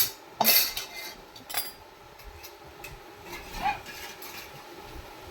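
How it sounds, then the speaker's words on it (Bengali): Fried leaves are tipped onto a shil grinding stone, giving a few sharp metallic clinks and scrapes of a utensil against stone, with quiet pauses between and soft background noise. "বাটবো বলে শিলে দিয়ে দিলাম।"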